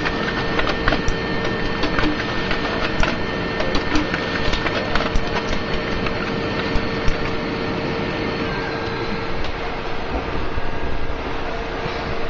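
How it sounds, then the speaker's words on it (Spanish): Brother HL-5150D laser printer printing QSL cards, a steady whirring mechanical hum with repeated clicks and feeding ticks throughout, fairly close and with no talk. "ahora comenzaría la impresora a trabajar"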